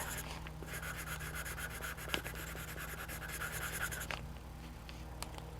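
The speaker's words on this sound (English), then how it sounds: "I'm going to erase all that." Charcoal pencil lines being erased from drawing paper, a steady scratchy rubbing that runs almost without a break, quiet and close, with a brief sharp tick partway through and no talking.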